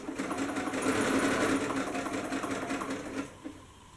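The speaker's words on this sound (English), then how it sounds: "I'm just going to go ahead along the curve and just sew, turning the fabric accordingly" Close and steady, a sewing machine runs continuously while stitching fabric for paperbag pants around a curve, then slows and stops near the end.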